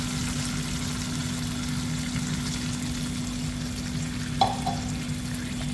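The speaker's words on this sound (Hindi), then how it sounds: "इस स्टेज पर हम इसमें 1 कप पानी ऐड करेंगे।" Mutton bhuna sizzles and fries in a pan as water is added, a steady, close hissing crackle throughout with one brief splash or clatter near the end, no talking.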